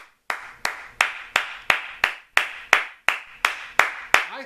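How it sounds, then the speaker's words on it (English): A single person clapping hands slowly and steadily, about a dozen crisp, evenly spaced claps with short decays, close and clear with no other sounds. "I think that deserves a round of applause."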